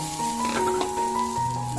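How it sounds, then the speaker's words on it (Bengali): Onions fry in oil until crispy for a hilsa fish meal, a steady close sizzle with faint tonal hums running underneath. "কচকচে টাইপের থাকবে, এভাবে ভেজে নিব"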